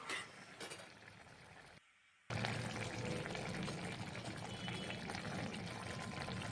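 Fish curry made with small fish, flat beans and potatoes poured from a pan into another pot, a close wet pouring and sloshing sound that breaks off briefly and then runs on steadily.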